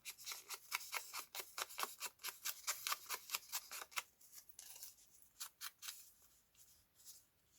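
Scissors snip through paper during a children's craft, a rapid run of crisp cuts for about four seconds, then a short pause and a few more separate snips, close and fairly quiet.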